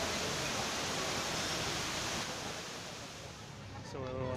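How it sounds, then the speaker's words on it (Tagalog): Falling water near the Burj Khalifa in Dubai makes a loud, steady broadband rush that fills the scene, close and continuous, with a voice starting at the end. "nakabagsak na tubig."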